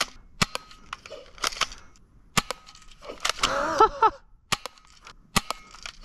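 Cheap airsoft gun firing at a target: sharp, isolated snapping shots spaced irregularly across the span, with a short burst of clattering and mechanical rattling in the middle; no talking.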